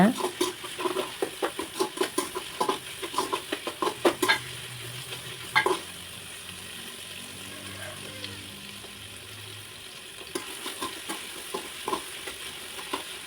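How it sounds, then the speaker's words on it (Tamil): Vegetables sautéing in a pan while cooking a vegetable noodle dish, a steady soft sizzle with stirring and intermittent scraping clatter, busier at the start and again near the end. "காயில் இருக்கிற ஈரப்பதம் போகிற வரைக்கும் கொஞ்சம் வதக்கிக்கோங்க."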